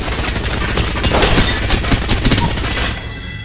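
Heavy, continuous gunfire in the video game Apex Legends, with dense overlapping bursts and shots from a fight around a building under attack, loud and close throughout before cutting off near the end.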